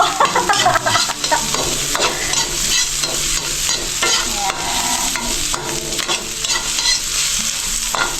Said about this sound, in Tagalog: Gigisa lang, wala nang sahog-sahog.